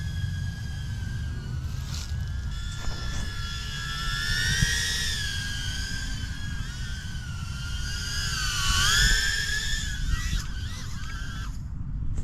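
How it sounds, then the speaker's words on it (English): Small FPV drone propellers spinning up for takeoff, a thin high whine that wavers and climbs in pitch over a low rumbling background, moderately loud and close, with no talk. "Press that one, then the props spin up, and then I'm going to take off."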